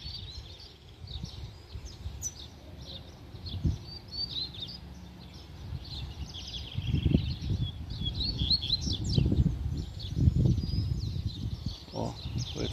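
A wild coleiro seedeater sings in open scrubland, its thin, high chirps and twittering phrases repeating throughout, with a low rumbling background of wind and movement beneath.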